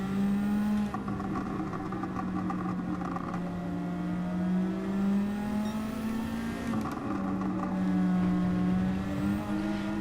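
A race car in Gran Turismo 7 holds a steady, gurgling engine drone that shifts pitch as it revs, continuous and close throughout with no talk.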